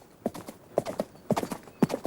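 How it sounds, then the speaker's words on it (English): Horse hooves clip-clopping at a quick gait as a horse gallops off, sharp irregular hoof strikes close and clear with no talking. "Then the witch jumped onto the horse's back and galloped away."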